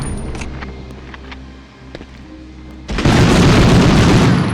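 A grenade blast in Medal of Honor, during a mission to destroy a V-2 rocket, hits as a sudden loud boom after a stretch of low rumble and faint clicks, then rolls on as sustained roaring noise.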